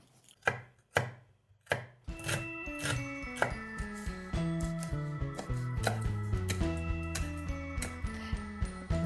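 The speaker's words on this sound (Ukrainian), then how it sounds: "Для зажарочки чистимо шалот, чесничок і наші трави." A knife chops shallot, garlic and herbs on a board for an asparagus soup, first a few separate knocks, then a steady run of close, rhythmic cuts under soft background music.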